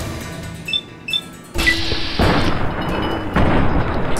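Gunfire in the video game Fallout: New Vegas, several loud booming shots in quick succession with a rumbling tail, following a few faint softer sounds at the start.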